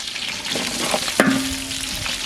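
Onions drop into hot oil with spices for sambar, a loud close frying hiss swelling into crackling sizzle, with a sharp clink and a brief ringing tone from the pan midway.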